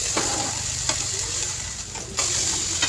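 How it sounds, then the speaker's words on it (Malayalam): Crushed shallots and garlic sizzle in hot oil in a pan for a fish fry, a steady close crackling hiss broken by occasional scrapes and clicks of stirring, with no talk. "ഇതിലേക്ക് കുറച്ച് ചുവന്ന ഉള്ളിയും അതുപോലെ വെളുത്തുള്ളിയും കൂടെ ചതച്ച് ചേർത്ത് കൊടുക്കാം."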